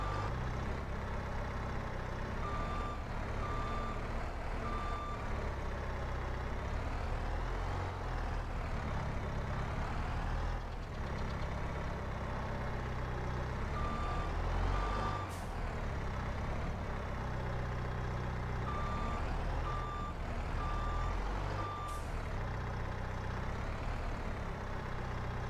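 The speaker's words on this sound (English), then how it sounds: "we'll get going here with the skid steer" A skid steer in Farming Simulator 22 reverses, its backup alarm giving bursts of evenly spaced beeps over a steady, loud engine drone that runs throughout, with no talking.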